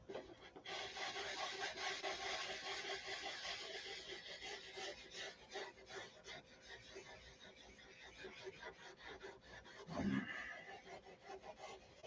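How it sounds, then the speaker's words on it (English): Steady back-and-forth rasping of sandpaper rubbed by hand on a surface, soft and continuous with a brief thump partway through. "this is the zen of sanding"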